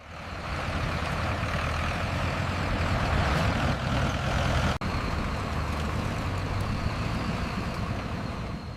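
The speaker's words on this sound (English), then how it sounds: "Huge trucks carry tons of sugarcane to the factory." Huge trucks hauling tons of sugarcane to a sugar factory, a steady loud engine rumble and roar that continues throughout with a brief dropout near the middle.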